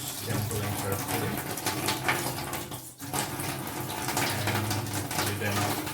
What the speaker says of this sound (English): Now it's time to wash all these kangkung leaves here.